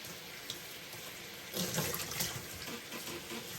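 Tap water runs into a sink to rinse a lined wool skirt, a soft steady flow that suddenly grows louder and splashier midway as the stream hits the fabric and basin.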